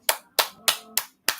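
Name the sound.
person clapping hands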